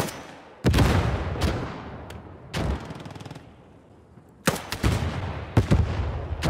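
Gewehr 43 semi-automatic rifle shots ring out in Post Scriptum, sharp loud cracks spaced irregularly, some in quick pairs, each trailing a decaying echo over a quiet battlefield background.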